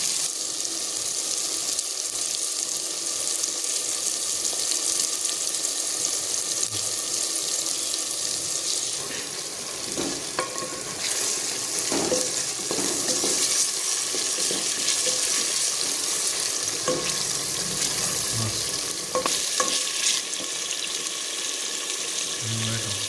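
Ginger garlic paste frying in a pan in a village kitchen while cooking lassi sobat, giving a steady broadband hiss and sizzle with scattered clinks of stirring throughout, loud and continuous.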